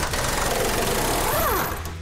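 Impact wrench driving K-member bolts on a 1968 Plymouth GTX, a loud continuous buzzing rattle close by that drops off at the end, with a rising whine near the finish; no talking.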